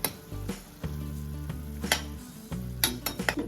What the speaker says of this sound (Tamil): தக்காளி வதக்கும் போது புளியையும் சேர்த்து வதக்கிக்கலாம்